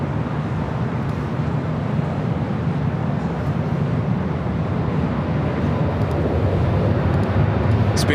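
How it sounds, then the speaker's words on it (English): An EVA Air Cargo jet begins its takeoff roll on runway 25 right at LAX, a broad, steady rumble of jet engines heard from some distance and swelling slightly toward the end. "Eva Air Cargo, flight 619, looking like it's going to take off on the south side on 25 right."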